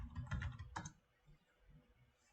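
A quick burst of keystrokes on a computer keyboard while entering a terminal command in Xubuntu, a handful of close clicks followed by quiet.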